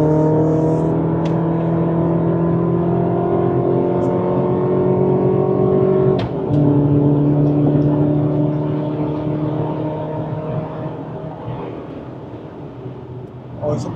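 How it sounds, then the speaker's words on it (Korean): A Chevrolet Colorado pickup truck accelerates hard to a speed limiter, its engine drone rising steadily and loud, with a brief shift break midway and the sound easing toward the end. "방금 이제 극가속을 좀 진행해 봤어요"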